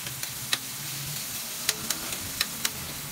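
String beans sizzle in a hot pan with a steady hiss, while sharp clicks and scrapes of a stirring utensil strike the pan at irregular intervals, close and moderately loud.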